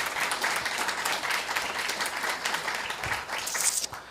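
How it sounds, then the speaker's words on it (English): An audience at a community meeting gives a round of applause, a dense and steady clapping that carries on for several seconds before tapering off at the end. "So let's give them a round of applause."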